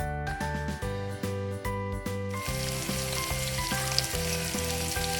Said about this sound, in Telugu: ఆనియన్స్ని గోల్డెన్ కలర్ వచ్చేంత వరకు ఫ్రై చేసుకోవాలి.